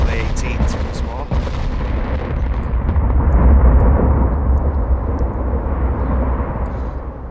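Heavy 18-inch naval guns boom in the warship game Ultimate Admirals Dreadnoughts, a loud deep blast followed by a long rumbling roar that rolls on without pause.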